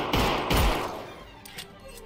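Gunfire in the VR shooter Gunman Trials 2 cracks out as two loud, close shots in quick succession, followed by fainter shots trailing off.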